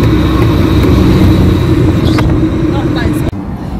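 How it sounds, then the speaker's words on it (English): Busy road traffic on a main road in Lagos, Nigeria, sounds as a loud, constant engine rumble with passing vehicles and an accelerating motor, heard close by. "I'm parked close to the main road, so the noises are coming from there."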